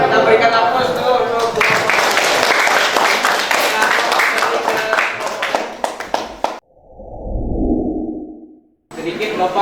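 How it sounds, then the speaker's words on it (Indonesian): Applause from an audience at a classroom teaching-practice session: a dense, steady patter of clapping runs for about six seconds, then thins to a few scattered claps and gives way to a soft low breathy rush. "Kita berikan aplaus dulu."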